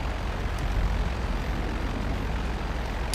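A jet aircraft roars past in the GTA Online video game, a steady loud engine rumble and whoosh holding throughout with no talking.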